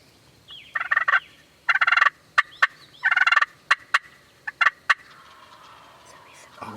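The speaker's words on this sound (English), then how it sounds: "Maybe that's a big gobble there. That might have been the gobbler." Wild turkeys gobble at the edge of the woods during a public-land youth hunt in Tennessee: several loud, rattling gobble bursts, some overlapping, ring out fairly close in a quiet outdoor setting.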